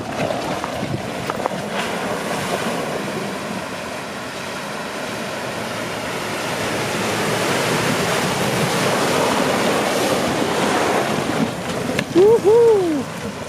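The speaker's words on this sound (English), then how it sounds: "Our first river crossing on McMillan's track, and Amy's going to do the river crossing." A 4WD crosses a river on McMillan's Track in the Victorian High Country, water rushing and churning steadily around the vehicle beneath a low engine rumble, with a brief squeal near the end.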